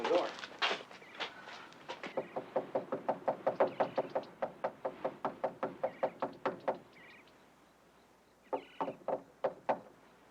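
Knuckles rapping on a front door in a 1969 film scene, long series of sharp, evenly spaced knocks, then a pause and a shorter closing burst, close and clear.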